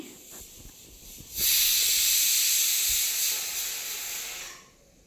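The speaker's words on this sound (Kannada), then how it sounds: "ಇಲ್ಲಿ ನಾನು ಟೊಮೊಟೊ ಬೇಯೋವರೆಗೂ ಚೆನ್ನಾಗಿ ಫ್ರೈ ಮಾಡ್ಕೊಳ್ತೀನಿ" Tomatoes with salt and turmeric sizzle in a hot pan for chicken fry, a loud steady hiss that swells abruptly after a quieter start and holds for about three seconds before fading, with no talk.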